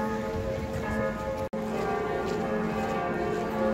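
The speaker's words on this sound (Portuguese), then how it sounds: "Os sinos estão tocando, mas não são da nova prefeitura" Church bells pealing in Munich's Marienplatz at night, a dense, steady ringing with sustained tones heard from some distance over outdoor ambience, briefly interrupted by a dropout partway through.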